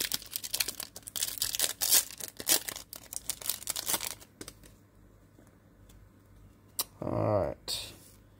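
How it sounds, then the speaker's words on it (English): Foil Pokémon card booster packs from a Brilliant Stars Elite Trainer Box being torn open by hand, a run of loud close crinkling rips over about four seconds, then quieter handling and a couple of short sharp tears. "Can never always get these packs open."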